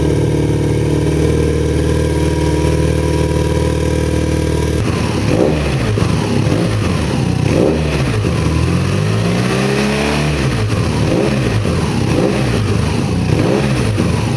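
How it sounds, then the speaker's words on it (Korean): A 2022 BMW R nineT boxer twin motorcycle engine idles with a steady throb, then is revved repeatedly, loud rising and falling blips close by with no talking. "엔진 소리 한번 들어보실까요?"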